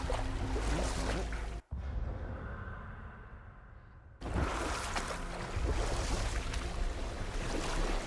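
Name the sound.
boat on water, from God of War video game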